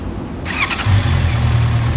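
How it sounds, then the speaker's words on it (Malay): A Honda CB650R motorcycle engine is started nearby: a brief whirring starter crank, then the engine catches and settles into a steady low rumble. "Sebelum tu saya hidupkan dulu enjin motosikal."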